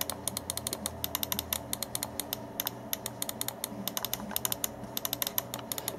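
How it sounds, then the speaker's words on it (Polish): Left and right main buttons of an ART Gaminger AM-80 budget gaming mouse click steadily in quick, close, crisp bursts, each press a light tap with nobody talking over it. "Przyciski główne, lewy i prawy. Posłuchajcie sobie jak one pracują."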